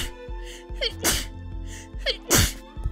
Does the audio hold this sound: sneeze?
yes